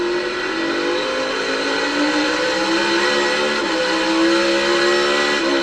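NASCAR Cup Series race cars at Martinsville during the 2025 fall playoffs accelerate off a turn with a loud, steady roar and high engine whine that climbs in pitch, several engines blending together up close.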